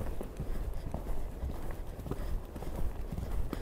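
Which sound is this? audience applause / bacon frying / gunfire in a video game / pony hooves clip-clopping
pony hooves clip-clopping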